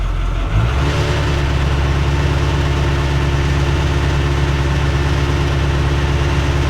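A Ford COE truck engine fitted with a 4-inch exhaust rises from idle to a steady 1,000 rpm hold, a loud, deep, even rumble after the initial rev-up, close by and without talk.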